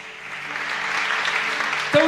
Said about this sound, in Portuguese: Aplaude ao Senhor nessa noite.